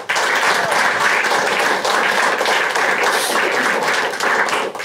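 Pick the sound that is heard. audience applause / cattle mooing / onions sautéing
audience applause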